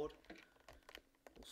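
Keys pressed on a sticky computer keyboard during a Hitman game session, several quick soft clicks in an irregular burst, close and fairly quiet.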